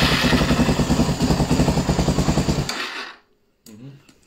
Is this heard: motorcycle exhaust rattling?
yes